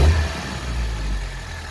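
Toyota Carina engine running with something rattling on the car, a steady low rumble and faint buzzy rattle, close to the microphone with no talk.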